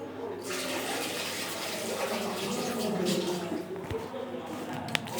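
Water splashes and pours steadily while something is being washed by hand, a continuous wet gushing with a brief sharp knock near the end.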